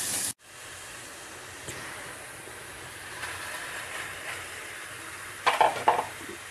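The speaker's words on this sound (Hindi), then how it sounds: "तड़का" A tadka of hing and tomato sizzles in hot desi ghee in a pan, a steady close hiss that runs throughout, with a brief louder crackle near the end.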